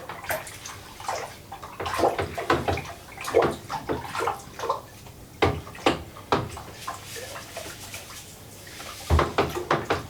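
Yeast is stirred into water in a homebrew bucket for making vodka, producing repeated close sloshing and swishing strokes in an irregular rhythm, with a short pause before a final burst of stirring.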